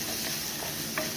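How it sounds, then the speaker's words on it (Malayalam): Dried red chilies, crushed ginger and garlic sauté in hot oil for a sardine curry, giving a steady soft sizzle with light stirring scrapes, close and continuous, no talk. "ഇനി ഞാൻ മുറിച്ച് വെച്ച വറ്റൽമുളക് ഇതിനകത്തോട്ട് ഇടുക."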